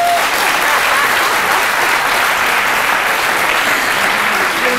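Dense, loud audience applause fills the whole stretch at a French midday show, a steady wash of clapping from a crowd with no break.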